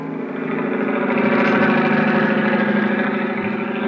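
A helicopter engine, played as a sound effect in an old-time radio drama, throbs steadily with a fast pulsing drone at close, loud, constant level.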